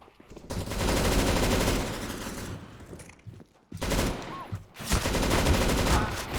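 Rapid gunfire in a competitive Counter-Strike: Global Offensive match, with dense automatic bursts that break off into short gaps and then resume, loud and close.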